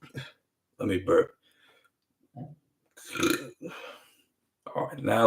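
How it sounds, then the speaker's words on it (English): A man lets out a burp during a casual singing session, a short throaty belch set among stretches of loud nearby talk. "Let me burp."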